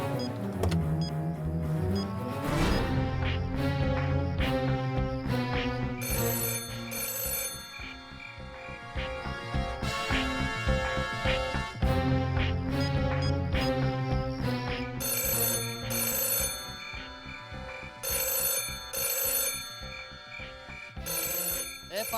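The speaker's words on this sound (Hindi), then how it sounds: "देखिए कहीं फोन तो नहीं बज रहा है।" A mobile phone rings with a loud, looping electronic melody of bright, repeating tones that plays steadily for the whole stretch, with no voices over it.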